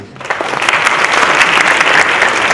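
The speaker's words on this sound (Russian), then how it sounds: "аплодисменты" Loud, close applause erupts from a comedy show audience after a short lull, quickly swelling into vigorous, sustained clapping.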